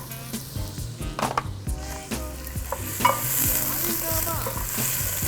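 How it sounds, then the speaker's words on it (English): Onion and garlic sweating in olive oil in a pan, a continuous sizzle with repeated scraping and stirring knocks from a utensil, close and fairly loud. "I'm gonna get a little bit of olive oil going in here, a little bit of onion, sweating down some garlic"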